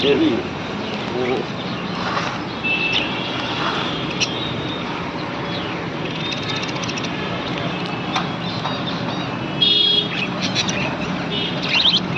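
Small birds chirp and tweet in scattered bursts against a dense, noisy background, with occasional cooing and the murmur of people talking nearby.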